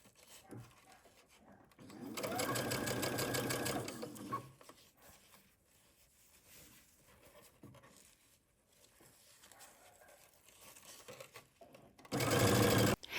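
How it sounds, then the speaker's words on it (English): A sewing machine edge stitches binding around a dress skirt in two bursts: a steady, rapid mechanical whirr of about two seconds, then a long quiet stretch and a second, louder run at the end. "we're gonna edge stitch around the binding all the way around the"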